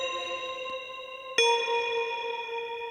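A sustained electronic tone washed in a diffuse reverb from the Soundtoys SpaceBlender plugin with texture turned up, with a bright attack near the middle that blooms and lingers into a smooth tail.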